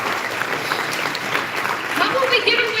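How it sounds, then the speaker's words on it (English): An audience at the iFX annual awards banquet claps in a sustained round of applause, a dense crackle of many hands that stays steady and swells slightly toward the end, with some voices mixed in. "Let's give Sarah another round of applause."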